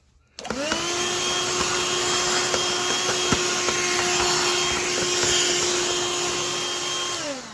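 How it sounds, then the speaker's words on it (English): A handheld vacuum cleaner runs steadily up close, sucking debris from the brush area and parts of a Kobot RV353 robot vacuum, starting abruptly with a sustained whine and motor drone that holds for several seconds with occasional clicks. "and then I vacuum it again."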